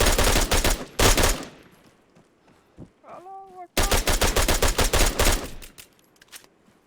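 Rapid bursts of automatic gunfire from a shooter video game blast in two heavy stretches, separated by a quieter gap with a brief tonal cry, ending in dense sustained firing.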